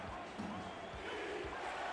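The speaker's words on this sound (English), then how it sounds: "Crowd for the last time this season here at Stack Up Stadium picks up a chant of defense" A stadium crowd at a football game chants in unison, a broad, steady roar of many voices from a distance with rhythmic low swells, no single voice standing out.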